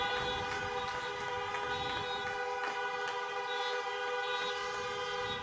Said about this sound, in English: Rather than applause, you can hear air horns and car horns.